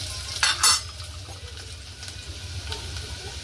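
Onion dropped into hot oil with curry leaves for a Marathi fish curry gives a brief sharp burst of sizzle, then settles into a faint, steady frying hiss under occasional utensil scrapes, no talking.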